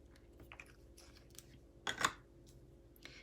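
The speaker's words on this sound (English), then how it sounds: "I'll just trim that with scissors" Scissors trim navy paper cardstock in a crafting session. A few faint, close snips and rustles lead up to one louder crisp cut in the middle against a quiet background.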